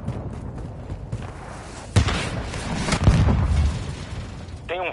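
Grenade blasts in Call of Duty: Modern Warfare 2 multiplayer, with a sharp boom near the two-second mark and another heavier burst around three seconds over a busy, rumbling battle background, ending with a brief high electronic chirp.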